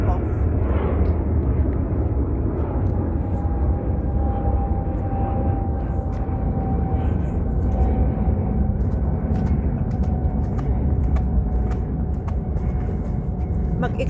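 An airplane taking off at night gives a steady, broad rumbling roar that stays constant and fairly loud throughout, with a faint sustained tone above it and occasional voices in the background.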